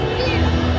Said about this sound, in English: Big crowd here for the Spider-Man stunt show.